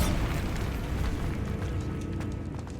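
A Bombarda explosion spell goes off in Hogwarts Legacy, a loud, close, rumbling blast that sustains and slowly fades over a few seconds.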